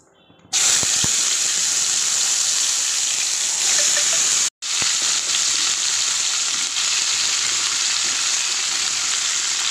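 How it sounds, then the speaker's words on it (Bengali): Whole dried red chillies and cumin seeds hit hot oil and sizzle loudly and steadily up close, with a bright continuous frying hiss, one short break, then the sizzle resumes. "গোটা শুকনো লঙ্কা তিনটে দিয়ে দেবো আর জিরে ফোড়ন দেবো"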